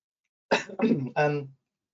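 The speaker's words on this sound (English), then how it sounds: "Oh, excuse me, I've just got a bit of a cough." A short burst of coughing and throat clearing, three quick harsh bursts close to the mic, then silence.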